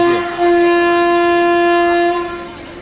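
A long, loud horn blast from the Brindavan Express running between Bengaluru and Chennai, holding steady for about two seconds before trailing off, with no voices.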